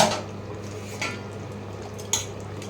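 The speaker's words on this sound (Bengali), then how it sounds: "এটা এবারে এরকম আমি ঢাকা দেব" A lid goes onto a pot of masala chicken with a couple of light metallic clinks and a soft scrape, close by, over a faint steady background hum.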